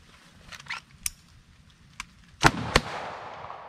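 Handgun shots on an outdoor shooting range during a gun retention training drill, fired on command: a few sharp, loud cracks with brief echoes, the last two closest and loudest, with no talking.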